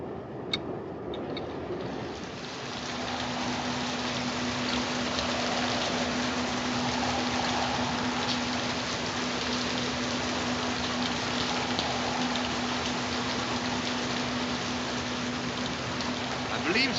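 Steady rain falls for the whole stretch as a dense, even hiss that swells slightly after the first few seconds, with a faint low hum beneath it.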